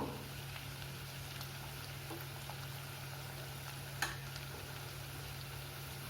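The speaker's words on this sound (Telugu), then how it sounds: "వాటితో పాటు ఎగ్స్ కూడా వేగుతున్నాయి" Eggs frying in a pan with onions and ginger garlic paste give a steady, soft sizzle that holds evenly throughout, with a single faint tick partway through and no voices.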